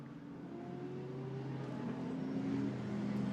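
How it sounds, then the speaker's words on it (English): GT2 race cars at Hockenheim roll behind the pace car at the start, a low engine drone rising gradually in pitch and loudness as the field approaches. "now comes the pace car. That will dive for the pit lane"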